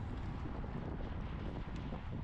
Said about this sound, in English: there's a pretty good crosswind here as well